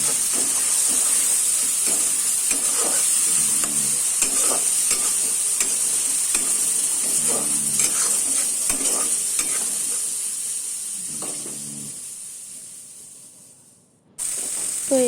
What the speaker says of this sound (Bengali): পেঁয়াজের বাটা ভালো করে ভেজে নিচ্ছি।